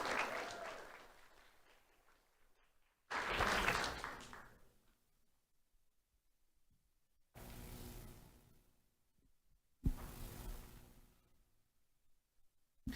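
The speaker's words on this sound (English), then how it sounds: "Let's have a round of applause for Ryan Priante." Several bursts of audience clapping at a sheriff's office awards ceremony honoring a student, each lasting a second or two and separated by quiet gaps, moderately loud in a large room.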